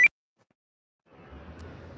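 One short, sharp electronic beep from a phone notification, followed by near silence and then a faint low rumble of background noise.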